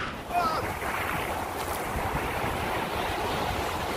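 Sea waves rolling onto the beach at Anapa, a steady broadband wash of surf with wind buffeting the microphone, continuous and fairly loud throughout.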